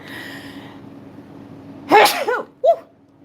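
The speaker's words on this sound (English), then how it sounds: "Excuse me, I just sneezed." A single loud, sharp sneeze, close to the mic, with a short gasping tail, heard after a stretch of quiet room hum.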